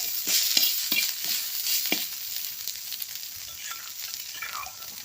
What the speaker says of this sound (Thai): ค่อยเอาเนื้อลงไป